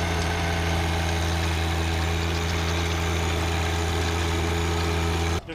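A compact tractor's engine runs steadily while tilling a garden, a loud close droning hum with a constant low rumble that cuts off abruptly at the end.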